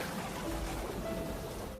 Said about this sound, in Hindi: गांधारी, तुम इतनी तेज बारिश में घर के बाहर क्यों खड़ी हो?